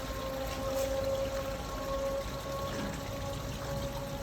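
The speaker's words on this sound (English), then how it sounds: "Water from upper sluice drains into lower sluice." Water drains from an upper sluice into a lower sluice of a model pyramid-construction sluice system, a steady continuous rushing flow with a faint tonal hum, unbroken and moderately loud throughout.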